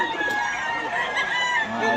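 Chickens and roosters at a market in Bocaue give off scattered crowing and clucking under the steady murmur of a crowd, with people talking nearby.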